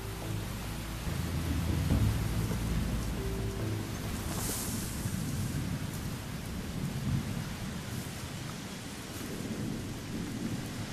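Heavy rain pours steadily during a thunderstorm, with a deep rumble of thunder rolling through the first few seconds and a dense hiss of rain continuing throughout, no voices.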